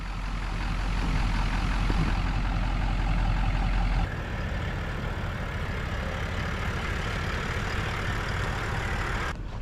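A Ford F350 pickup towing a camper grinds along a rough 4WD track, its engine a steady, loud drone with a low rumble that shifts partway through, with no voices.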